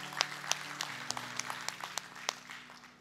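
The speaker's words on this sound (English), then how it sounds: "Yes, you can clap for that." A church congregation applauds a baptism celebration with fairly sparse, distinct claps in a steady patter that gradually thins out over a few seconds, moderately close.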